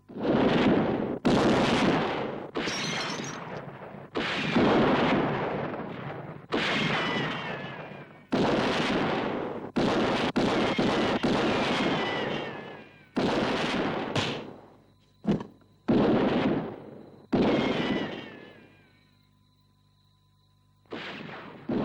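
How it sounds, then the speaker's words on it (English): Repeated bursts of gunfire in a televised Western-style standoff with police, loud dense volleys separated by short gaps, the last stretch thinning to sparse shots and quiet. "Tell your men to quit firing."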